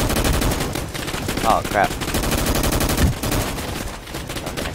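Rapid automatic gunfire crackles in a Roblox shooter game, a dense continuous burst of shots with a player's brief spoken exclamation partway through.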